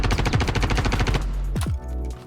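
P4 Assault Rifle in Star Citizen firing a rapid automatic burst of evenly spaced shots for about a second, followed by a mechanical clank and a low lingering tail.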